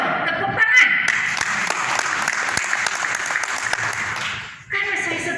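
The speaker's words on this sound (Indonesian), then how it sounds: "Gereja loh, tepuk tangan." A church congregation applauding: a thick wash of clapping holds steady at a good volume, then drops away abruptly near the end before a brief return of room sound, with some voices underneath.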